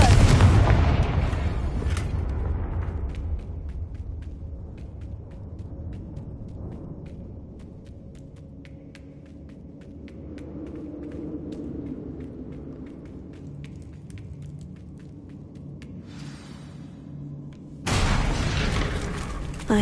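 Repeated blasting-spell explosions from a snowy fantasy video game, deep booming bursts with rumbling decay, loud and close, the strongest blasts at the start and end with quieter rumble between.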